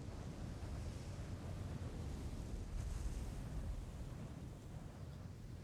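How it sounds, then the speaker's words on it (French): Ocean waves wash and rumble continuously, with a low, steady surf roar and some wind noise; no voices. "Le bruit des vagues, ça m'avait un peu manqué."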